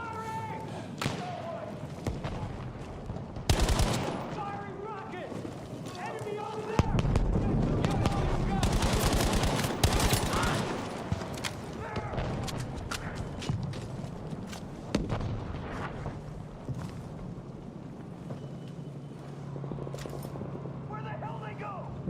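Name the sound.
gunfire and artillery in the video game Battlefield V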